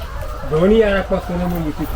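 Chickens cluck and call at close range on a combined fish and chicken farm, a few harmonic squawks in quick succession over low background noise.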